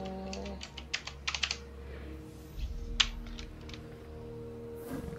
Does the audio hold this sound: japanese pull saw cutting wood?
no